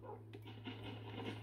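Tamed dogs panting in the Minecraft video game, a faint, quick rhythmic breathing under a steady low hum, with no talking.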